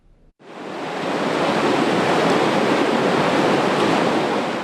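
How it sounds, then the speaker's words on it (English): Snowmelt rapids on the Kern River rush in a steady, loud roar of white water that swells up after a brief quiet start and holds constant, with no voices. "Precious snowmelt turning into raging rapids, slowly filling Isabella Lake."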